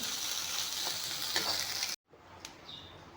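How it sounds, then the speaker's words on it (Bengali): Potatoes frying in a pan give a steady, close broadband sizzle that cuts off abruptly partway, leaving a quieter hiss with a brief tap and a faint high chirp. "এতিয়া আলুখিনি ভাজি ল'ম"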